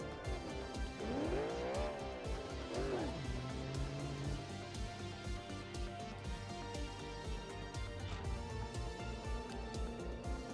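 Car rolling in BeamNG with the gears mixed up: a steady engine drone, a brief tire squeal near the start, and the car running on continuously without talk.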